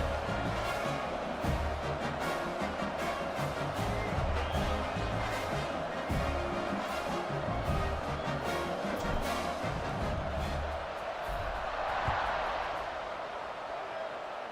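Stadium crowd in a college football video game keeps up a steady, dense roar for the whole stretch, loud and continuous with no clear peaks.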